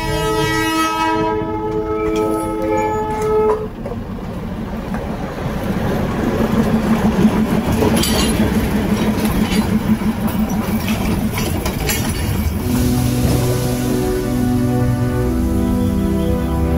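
The Darjeeling toy train rumbles past near the Pagla Jhora waterfall, its horn sounding loudly at the start and again near the end over steady rolling wheel noise.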